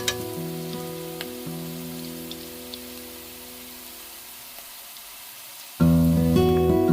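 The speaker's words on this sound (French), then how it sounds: "Un peu d'ail, un oignon. Je fais revenir tranquillement, voyez, tranquille, que ça soit frit, mais légèrement frit" Garlic and onion fry gently in a wok with a soft, continuous sizzle. A steady hum runs underneath, and the frying grows suddenly louder near the end.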